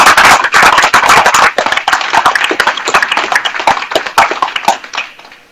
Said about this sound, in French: que je voudrais qu'on applaudisse très fort.